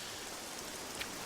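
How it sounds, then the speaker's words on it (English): Rain falls in a third-person survival video game as a brief, even, broadband hiss with no other sounds. "And it's still raining."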